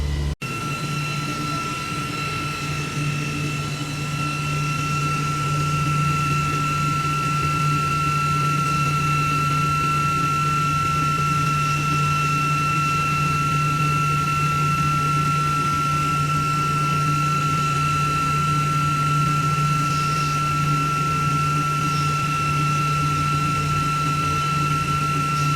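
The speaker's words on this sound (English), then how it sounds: "So we used the cotton fabric wheels to do the mirror polish." Titanium mirror polishing machine running cotton fabric wheels in a metal polishing factory, a steady loud drone with constant high and low tones that holds without a break.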